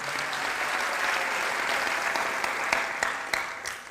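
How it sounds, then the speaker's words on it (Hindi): An audience gives loud applause for a guru at a gathering, steady dense clapping throughout with a few sharper individual claps standing out as it begins to fade. "मैं चाहूँगा गुरुजी के लिए जोरदार तालियां चाहिए"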